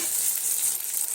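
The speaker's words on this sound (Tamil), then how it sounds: "இப்போ வரமிளகா 3 நல்லா தாளிச்சிக்கலாம்." Three dried red chillies being tempered in hot oil give off a brief, steady, hissing sizzle heard up close.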